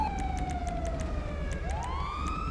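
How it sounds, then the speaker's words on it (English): Police siren in a FiveM roleplay video game, a loud electronic wail sweeping down and then climbing again, with rapid pulsing clicks above it and a low engine drone steady underneath. "Siren's still on."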